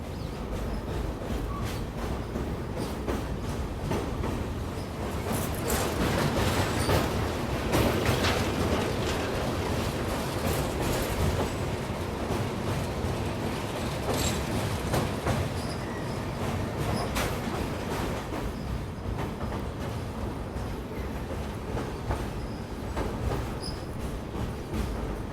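Inside the Tirunelveli Bilaspur Superfast train as it runs: a steady, loud rumble of wheels on rails with rhythmic clatter and rattling from the carriage, continuous throughout with no talking.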